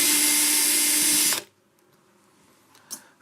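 Power drill driving in the last screws, a loud, close, high-pitched whine lasting just over a second before cutting off abruptly, followed by quiet room noise and a faint clunk.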